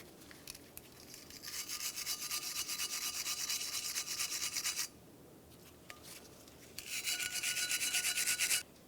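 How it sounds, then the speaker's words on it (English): Wire brush scrubbing a Ford Transit Connect brake caliper bracket: steady raspy back-and-forth scrubbing for about four seconds, a pause, then another burst, close and fairly quiet with no talking. "Now we'll move along to cleaning the caliper bracket. This can easily be done with a wire brush."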